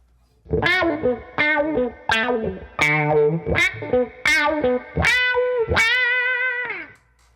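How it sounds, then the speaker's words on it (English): An electric guitar plays a series of distorted chords through a Boss PW-3 wah pedal sweep, about eight separate strums with pauses in between, loud and close. "now let's go on to the Boss, which is a little harder to press down on."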